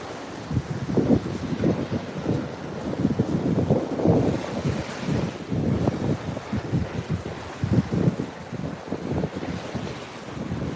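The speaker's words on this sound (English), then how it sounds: "You may notice there's a sandbar right there where the waves are breaking." Ocean waves break over a sandbar off a New Jersey beach in the morning, rolling in as a continuous surf wash. Heavy wind buffets the microphone in irregular gusts throughout.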